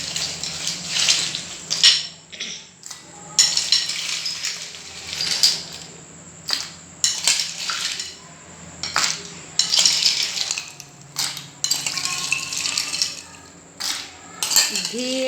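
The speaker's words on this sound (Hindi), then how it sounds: "और अब मैं डालूंगी आइस क्यूब्स।" Ice cubes clatter and clink into a container for a mango margarita, a dense run of bright, repeated knocks and rattles at close range, with no speech over them.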